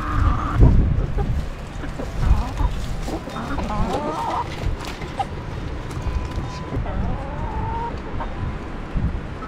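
Chickens in a Connecticut flock cluck and squawk around feeding time, several birds calling at once, near and fairly loud, while people talk over them and low thumps and creaks sound in the background.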